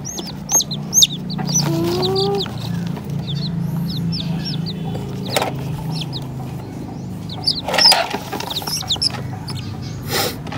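Chickens cluck and squawk repeatedly at close range, with short chirpy calls scattered over a steady low background hum.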